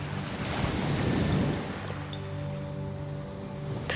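Soft ocean waves used as an audio drama sound effect swell and wash in once, then settle into a gentle, low roar under a calm tonal backdrop.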